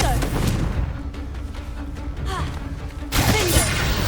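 A Confringo blast spell in Hogwarts Legacy, a loud booming crack with crashing debris over busy game noise, followed by another sharp burst near the end.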